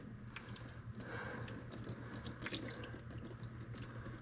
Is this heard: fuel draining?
yes